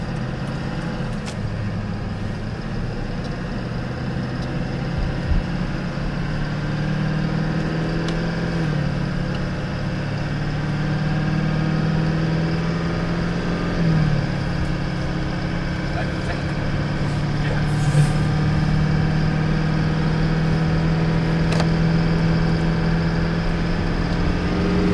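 A Duramax diesel Suburban on the road gives a steady, loud low engine drone with road rumble throughout the cabin.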